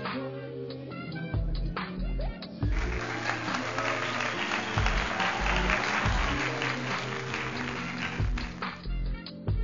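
Applause for a man singing fills the room as a dense, continuous burst of clapping with crowd noise and background music. It is sustained for several seconds at moderate loudness.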